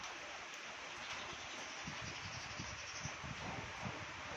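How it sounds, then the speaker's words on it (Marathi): A soft, steady wash of heavy rain hisses in the background outside, faint and even, with low rustling underneath. "आता दारी पण खूप पाऊस चालू आहे ना"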